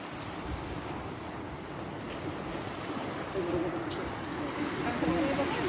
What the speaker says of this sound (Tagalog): Baka tangayin ka ng alon!